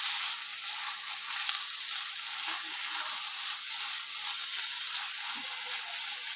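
Lote fish frying down in a pan into crumbly shreds for bhorta, a steady close hiss of sizzling oil with faint scraping stirs now and then.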